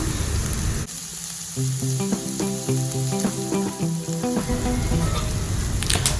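Vegetables for vegetable fried rice fry in a pan at home with a loud, steady, close sizzle that never lets up, while a light melodic tune plays over it.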